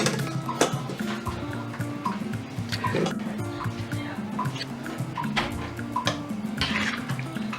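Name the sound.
pouring cooked vegetables through a strainer onto fish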